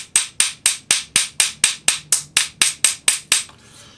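A small hammer strikes a metal cuff being domed, about fourteen sharp ringing blows in a fast even rhythm, close and loud, then a brief fading clatter.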